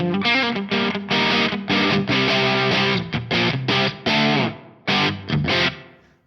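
Electric guitar through a Frost Giant Electronics Mountain V3 pedal switched to its distortion mode, loud saturated chords struck and held in choppy bursts, tapering to a fading final chord.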